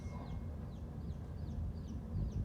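Baby chicks peep in quick, high, repeated chirps, faint above a low rumbling background.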